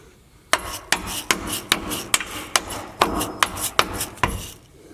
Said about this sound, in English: I may have to use a mallet to get this on.